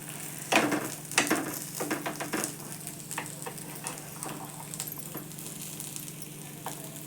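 Rava appe fry in a pan, giving soft continuous sizzling with a few sharp clicks and taps early on, likely from turning them over, and no talking.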